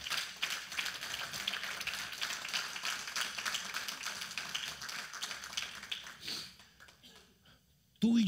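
A church congregation at a Spanish-language service applauds in a sustained, dense wash of clapping that fades out near the end, followed by a brief low voice.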